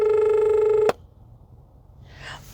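A telephone rings once with a bright, steady electronic tone that cuts off abruptly, followed by a quiet pause and a faint brief rustle.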